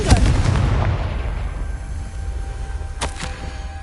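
A booming blast from the Confringo spell in a Harry Potter video game hits hard at the start, then rumbles and fades over a couple of seconds, with a brief sharp crackle near the end.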